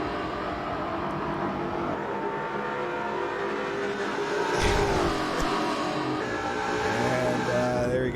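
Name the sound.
race cars heading to start-finish line in video game Forza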